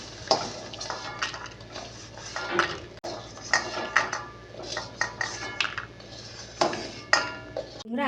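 Metal utensils clink and scrape against a pan as fried Bengali badis (lentil dumplings) are lifted out, a series of sharp irregular knocks and rattles close by, with no talking.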